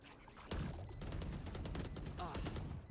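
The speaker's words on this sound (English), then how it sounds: "They shot my wingman." Rapid gunfire in the tactical shooter Valorant crackles in a dense burst of repeated close shots lasting a few seconds, with faint game sounds beneath and no clear talk.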